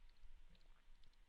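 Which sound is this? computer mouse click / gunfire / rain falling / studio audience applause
computer mouse click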